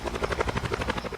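A helicopter in the video game Call of Duty Blackout chops along with rapid, steady rotor pulses, close and continuous for the whole short moment, with no voices.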